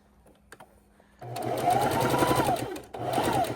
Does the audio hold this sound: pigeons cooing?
no